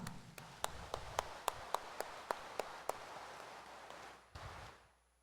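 A few slow, evenly spaced claps ring out in a church during a Friday Mass at Quiapo Church, about ten sharp hits with a hushed background and a faint final thump before the sound fades out.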